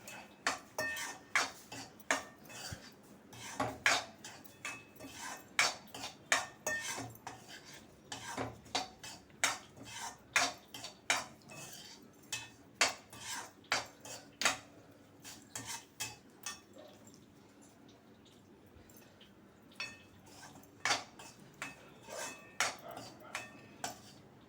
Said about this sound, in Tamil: அதில் போட்டு ஒரு 5 மினிட்ஸ் நல்லா ஃப்ரை பண்ணலாம்.